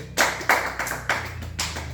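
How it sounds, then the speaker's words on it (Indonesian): Classmates in a small fiqh lesson clap their hands in a short, loose burst of a few uneven claps, close and moderately loud in a quiet room. "Tepuk tangan dulu untuk Mas Labib."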